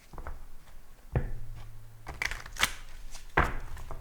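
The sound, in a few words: shuffling tarot cards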